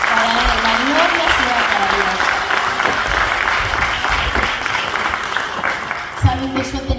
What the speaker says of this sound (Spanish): un aplauso para Él, la gloria sea para Dios